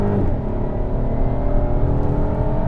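A 2018 Volkswagen Passat GT accelerating through the gears, heard from inside as a loud, steady engine drone that rises in pitch as it pulls hard, with no voices.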